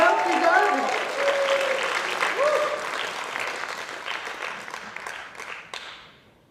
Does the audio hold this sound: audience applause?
yes